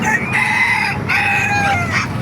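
A rooster crows loudly and close by at an outdoor animal market in Baliuag, Philippines, with other chickens calling and clucking around it, no talking.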